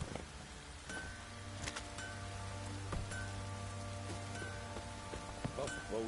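Steady rain falling in The Witcher 3: Wild Hunt, a continuous soft hiss of drops spread evenly over the scene, with faint game music tones and occasional ambient clicks on top.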